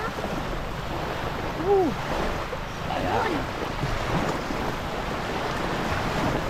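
Ocean waves wash along the seashore at Sta. Fe on Bantayan Island, Cebu, a steady broadband surf wash with some wind, while a person talks briefly over it.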